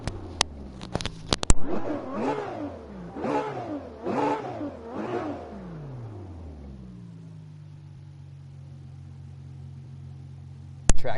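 Ferrari engine in the racing game Assetto Corsa, revving near 9,000 RPM in four sharp rising bursts, then settling to a steady idle hum, with a few clicks at the start and end.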